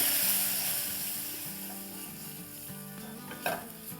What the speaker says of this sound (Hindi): एक लैडल से ये जो जूसेस है इसके, शोरबा जो है वो इसमें डालेंगे और हिलाएंगे